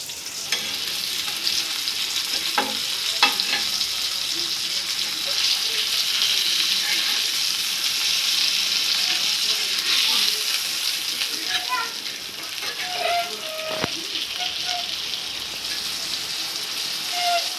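Fresh fish, shingta catfish, frying in a pan of hot oil, giving a loud, continuous crackling sizzle close by, with a few sharper pops and clinks as the pieces are turned over.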